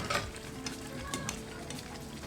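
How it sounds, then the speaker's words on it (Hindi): Naan made with potato and gram flour fries in hot oil, with a close, busy crackling sizzle and scattered pops throughout and no voices. "बाकी के जो तमाम नान हैं उनको भी इसी तरह से हम फ्राई कर लेंगे"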